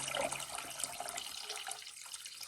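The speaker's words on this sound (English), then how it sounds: "I'm adding more filtered water until" Filtered water pours steadily into a cooking pan on a kitchen stovetop, a continuous close splashing rush that eases slightly toward the end.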